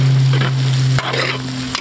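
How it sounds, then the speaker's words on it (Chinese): Fat intestines and pickled peppers are stir-fried in a wok with a loud, close sizzle over a steady low hum, broken by two sharp clanks of the spatula against the metal. "放入泡椒，泡椒，继续翻炒"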